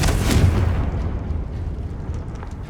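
Confringo fire blast spell in Hogwarts Legacy: a loud, close burst erupts at the start with a deep rumbling boom, then fades into a rough, crackling decay and low rumble that carries through the rest.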